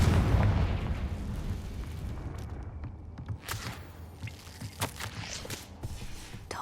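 In the Hogwarts Legacy video game, a Confringo blasting spell sets off a deep, rumbling explosion that fades out, followed by scattered thuds and crackles.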